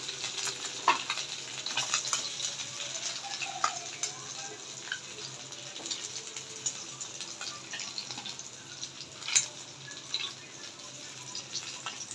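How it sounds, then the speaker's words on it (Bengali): Tengra fish sizzling in oil in a pan, a soft, continuous background fry with scattered small crackles and light scraping, fairly faint and steady throughout. "মাছ মাছগুলো ভাজা হয়ে গেছে নামিয়ে নিচ্ছি"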